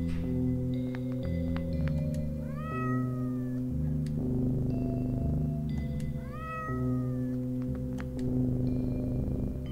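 Cats in the video game OneShot, several sharp, rising meows over a steady synthesized music bed, repeating in two clusters, close and clear with no talking.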